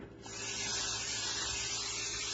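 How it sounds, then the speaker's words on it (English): A steady, continuous hiss of cooking spray lightly sprayed onto a pan, lasting a couple of seconds, close and even in loudness. "I'm going to lightly spray the pan"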